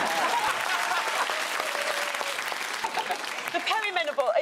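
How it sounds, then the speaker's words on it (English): Studio audience of a TV comedy panel show breaking into a round of applause, dense steady clapping that slowly thins out, with voices coming in over it toward the end. "did you want a round of applause for that as well?"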